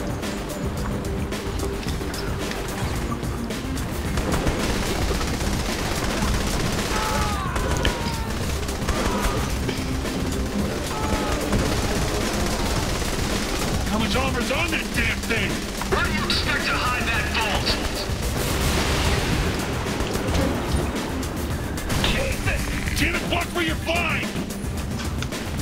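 Gunfire in Saints Row The Third: a steady barrage of shots and booms during a helicopter chase, mixed with engine and rotor noise and water sounds, running continuously and fairly loud with a voice talking over it.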